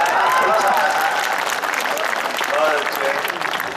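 An audience at a Hindi poetry recital claps loudly and continuously, a dense patter of applause filling the whole moment.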